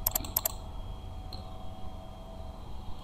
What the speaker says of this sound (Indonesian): Kemudian double klik.